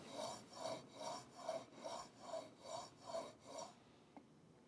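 A plane blade is sharpened on a whetstone in a woodworking shop: eight steady, even rasping strokes in a regular back-and-forth rhythm, up close and alone, then a brief quiet with one small click.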